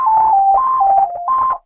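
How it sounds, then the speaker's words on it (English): A phone ringing nearby during a birthday live stream, a clear electronic tone stepping between pitches in a looping melodic pattern for about a second and a half before cutting off, heard alone. "that was the phone"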